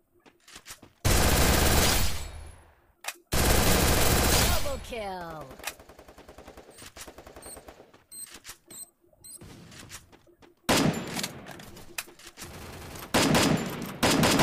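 Loud, sustained automatic gunfire in the mobile shooter Free Fire's Clash Squad mode, long rapid bursts with brief pauses between them, close and dominant throughout.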